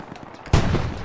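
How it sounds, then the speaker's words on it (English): Gunfire in the video game Hell Let Loose: after half a second of near quiet, a sudden loud burst of shooting crashes in and keeps rattling on without a break to the end. "I think we're being shot at"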